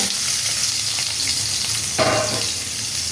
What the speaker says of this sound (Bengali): এখন আমি আলুটারে ভাজা নিব।